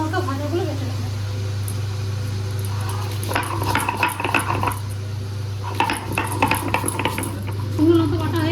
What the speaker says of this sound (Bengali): এবার শুকনো লঙ্কা ভাজাগুলো বেটে নেবো